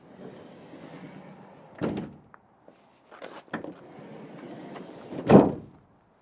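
Sliding side door of a Ford eTransit electric van rolls along its track and thuds shut, with a sharp latch clunk near the middle and a loud, close slam at the end, surrounded by quieter handling rattles.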